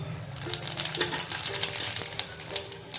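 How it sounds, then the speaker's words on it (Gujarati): Cumin seeds sizzle in hot oil with a steady crackle and scattered sharp pops, close by and continuous, while making tomato chutney. "તેલ ગરમ થઈ ગયા બાદ આપણે એક ચમચી જેટલું જીરું એડ કરી દઈશું"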